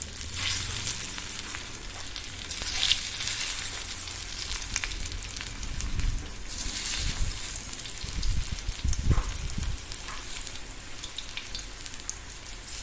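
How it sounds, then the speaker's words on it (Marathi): Slices of alu vadi shallow frying in oil in a pan, a steady close sizzle and crackle with bursts of spattering, no talking. "आता ह्याच्यात आपण ह्या वड्या कट करून घेतलेल्या आहे ते टाळ ठेवूया आणि ह्याला नुसतं शालो फ्राय करून घेऊया"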